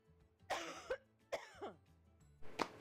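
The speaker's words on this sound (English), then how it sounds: "I can't stop coughing" A person coughs three times in quick, harsh bursts with throat-clearing rasps between them, close and fairly quiet, with no talk.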